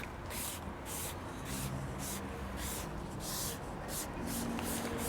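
Repeated bursts of mist sprayed onto a Tesla body panel, several short hissing spritzes in an irregular rhythm, close and fairly quiet over low background rustle.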